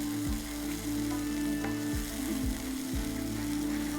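Onion, ginger and garlic mixture sizzling in a pan as liquid cooks off, a steady crackling fry over a low hum, with a few spatula bumps, close and unbroken by speech.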